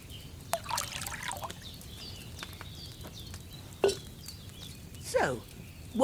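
Wine pours into a cauldron in the video game Kingdom Come Deliverance 2, with brief liquid trickles and splashes in two short bursts against a quiet, hollow background.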